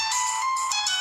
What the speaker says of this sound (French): vous allez pouvoir entendre la sonnerie